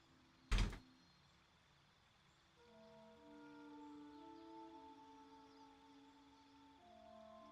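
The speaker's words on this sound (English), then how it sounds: "I heard the door open and then it just shut." A door in the Baldur's Gate 3 video game opens and shuts, heard as a single sharp, loud knock followed by quiet, steady humming tones under a faint background.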